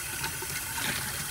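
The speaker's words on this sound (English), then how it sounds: "now that they are thawed out, we are going to use really, really hot water" Very hot water running from a tap, a brief steady hiss of flowing water heard close and fairly quiet on its own.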